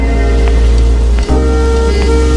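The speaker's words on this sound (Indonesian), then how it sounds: "di malam itu hujan turun dengan sangat deras" Heavy rain pouring down at night, a steady dense wash of drops hitting surfaces, loud and continuous with a low hum beneath and one brief dip.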